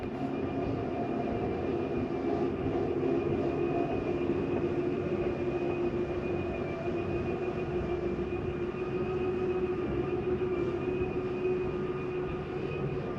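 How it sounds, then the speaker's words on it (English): The slide-out on a 2025 Jayco Jayfeather 19MRK travel trailer runs outward with a steady, droning motor hum and faint mechanical whine, continuous and even for the whole stretch, with no voices. "Go ahead and run that slide out."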